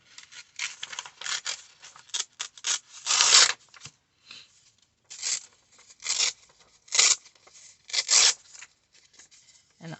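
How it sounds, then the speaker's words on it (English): Paper torn by hand into jagged strips for handmade tea-leaf paper tags, in a run of short ripping bursts with brief pauses between them, close and fairly quiet, with no talking. "If you tear with your paper, holding your paper with one hand and pushing away,"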